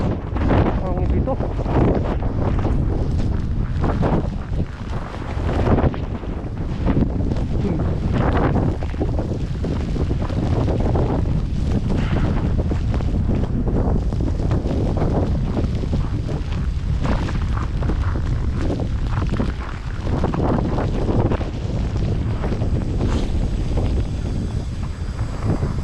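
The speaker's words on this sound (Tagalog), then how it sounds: "Hangin dito." A strong wind roars outdoors in Canada, buffeting the microphone with loud, continuous rumbling gusts that last the whole stretch.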